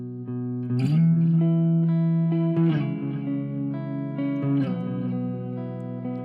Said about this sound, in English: I have just like a regular clean guitar sound. This is no compressor.